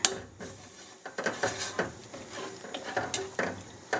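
Tomatoes fry in oil with a soft sizzle beneath repeated sharp taps and scrapes of a utensil stirring in the pan, fairly quiet and close, with no one speaking.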